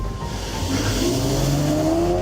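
A car speeds away from a parking lot after a traffic stop, its engine pitch climbing steadily over a constant road rush. The sound is close and loud, with no talking.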